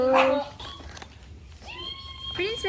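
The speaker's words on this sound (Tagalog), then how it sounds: "Ay, aso." A dog gives short barks and whimpering yelps in a home setting, close and moderately loud, mixed with people's voices talking around it.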